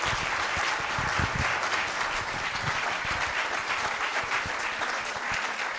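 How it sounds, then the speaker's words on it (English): Audience applause at a 20th anniversary seminar, a sustained, even round of clapping from a sizable crowd in a hall, continuous for several seconds without speech. "Please keep clapping till he mounts the podium"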